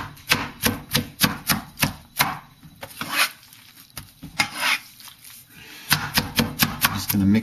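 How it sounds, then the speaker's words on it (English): Steamed pork and Chinese cabbage chopped with a knife on a cutting board, rapid rhythmic thuds in bursts, separated by a short stretch of scraping and mixing. "going to mix all this in and kind of cut it up a little bit more until it's all kind of mixed in together"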